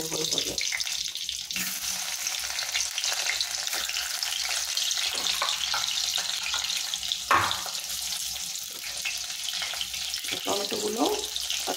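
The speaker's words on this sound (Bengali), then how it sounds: "টমেটোগুলো তেলের মধ্যে দিয়ে দেবো এভাবে।" Tomato halves frying in hot oil, a continuous crackling sizzle with a hissing wash, close and steady, broken by a few sharper pops and faint knocks.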